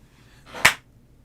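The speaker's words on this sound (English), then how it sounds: "Do you hear the clap sound? It's me literally killing the bug" A single sharp hand clap made to swat a bug, one quick loud smack in near silence, close to the listener.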